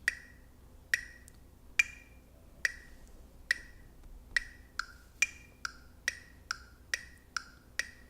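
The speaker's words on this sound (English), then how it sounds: "So you can hear the metronome subdividing the beat." A metronome ticks crisply and evenly, with faint extra clicks filling the gaps between the main beats, alone against quiet background hiss.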